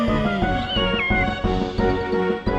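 A person under stage hypnosis imitates a cat, giving drawn-out, tonal meow-like cries that stay close and fairly loud for the whole stretch, with no other talk.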